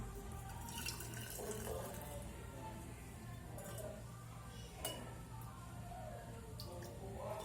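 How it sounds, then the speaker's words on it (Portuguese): Hot tap water runs steadily while glass jars are washed with a little chlorine to sterilise them for strawberry jam, with a continuous splashing flow and faint clinks. "Eu lavo eles com água quente, um pouquinho de cloro, para poder esterilizar."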